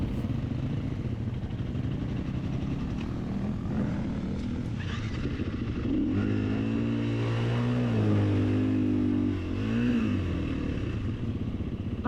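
Enduro motorcycle ridden off-road in Mongolia, a continuous engine drone with wind noise, rising and falling in pitch as the rider shifts and revs partway through.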